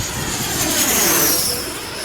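An RC F-35 model jet in flight, its turbine giving a loud continuous whine and roar that swells slightly and sweeps in pitch as it passes overhead.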